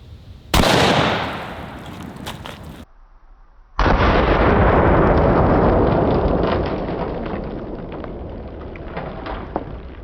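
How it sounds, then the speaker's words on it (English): A Savage Axis .308 rifle fired at body armor during a test, a loud sharp report followed by a long decaying rumble, a brief quiet gap, then another booming blast with an extended echoing tail outdoors. "Shooting this one out of the Savage Axis 308."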